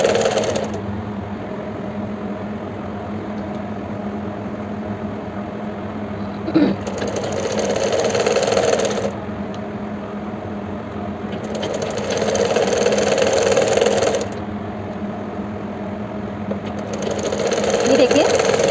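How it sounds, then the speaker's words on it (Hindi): A sewing machine stitches the folded hem of umbrella palazzo pants, running in several steady whirring bursts with short pauses between, close and fairly loud, with someone talking over it at times. "थोड़ा सा फोल्ड किया और स्टिच कर लिया।"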